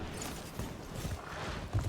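Horse hooves clip-clop in a video game, a steady run of soft thuds over a low rumbling game backdrop, with a slightly stronger hit near the end.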